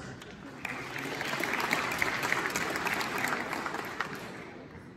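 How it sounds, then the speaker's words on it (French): Sustained audience applause in a hall as names are read out at a community gathering, a dense steady wash of clapping that holds evenly for the full length. "On peut applaudir, ben oui."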